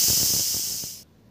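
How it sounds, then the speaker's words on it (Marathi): Steam hisses loudly from a pressure cooker cooking chana dal with turmeric: one steady, close blast lasting about a second before it cuts off abruptly into quiet. "आता याला आपल्याला कुकरमध्ये 3 ते 4 शिट्ट्या काढून घ्यायच्या आहे."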